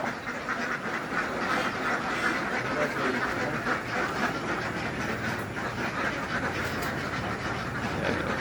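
A large flock of about two thousand laying ducks quacks at feeding time, a dense, continuous chorus of overlapping calls that holds steady from start to finish with no clear pauses.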